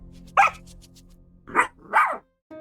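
Minecraft wolf pups give three short, light yips close by, one early and two together near the end, with quiet gaps between.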